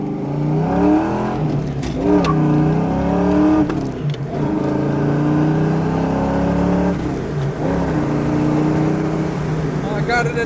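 A 1987 Ford Mustang 5.0 V8 driving at speed in fourth gear around 75 mph, with a loud, steady engine drone and rising-falling tone across the whole stretch, someone talking over it.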